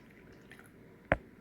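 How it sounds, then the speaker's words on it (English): Warm water hitting dehydrated cucumber slices makes one short, wet splash against a quiet room, with nothing else around it. "A little bit of warm water in them,"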